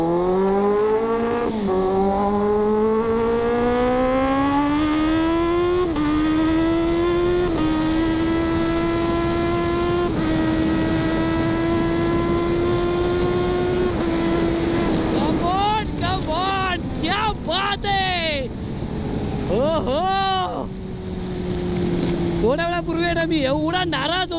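A high-revving superbike engine whines loudly, its pitch climbing and holding, then several quick rev bursts near the end with wind noise and occasional voices.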